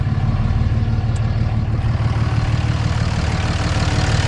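A stock pickup truck engine with bad injectors runs rough, giving a loud, steady low drone with an uneven throb and no voices.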